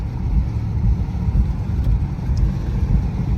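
1967 Chrysler 300 driving along, giving a steady, low engine and road rumble heard from inside the car at a constant level, with no talking.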